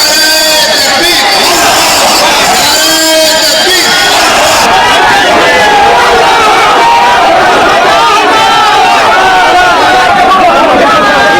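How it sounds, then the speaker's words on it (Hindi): A huge crowd gathered in Bengal for the foundation-laying of a Babri mosque, a loud continuous roar of many voices, shouting and babble filling the whole stretch without pause. "बाबरी बनाने के लिए लाखों की भीड़ पहुंच गई थी बाबरी की नींव रखने के लिए"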